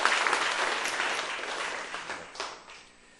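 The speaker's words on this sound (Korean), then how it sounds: "제가 박수를 받는 것 같아서 기쁩니다." A church congregation claps together in a sustained burst of applause that gradually fades out over about three seconds, with no speech heard.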